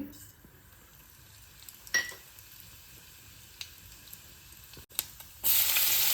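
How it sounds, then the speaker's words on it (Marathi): Asafoetida, mustard seeds and cumin sizzle in hot oil in a home kitchen, a faint steady crackle with a few sharp pops and clinks, then a loud hissing burst near the end. "मी तेल टाकून घेते तेलामध्ये हिंग मोहरी आणि जिरे"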